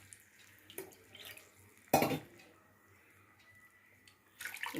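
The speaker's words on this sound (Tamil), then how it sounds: "இப்போ வந்து தண்ணி ஊற்றிக்கலாம்" Water from a measuring cup is poured into a cooking pan while making kozhukattai, a short splashing burst midway through an otherwise quiet kitchen moment, followed by faint clatter near the end.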